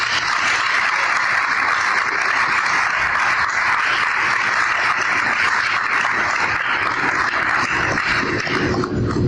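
A community event audience claps steadily and loudly for about nine seconds, a dense, continuous wash of applause that holds its level before easing slightly at the end.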